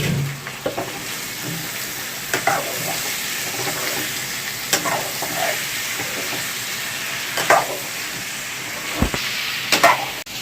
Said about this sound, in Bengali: এদিকে তরকারি কষছে, দেখুন তরকারিগুলো একটু হালকা ভাজা ভাজা হয়ে গেছে।